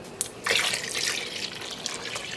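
Water is poured into a yarn dyeing pot, a close steady splashing stream that begins sharply and runs on for a couple of seconds.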